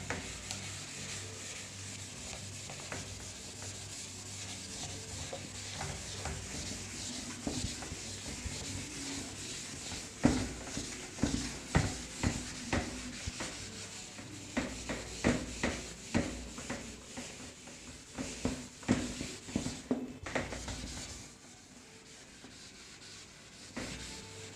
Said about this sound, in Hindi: ये मैं रब कर देता हूँ।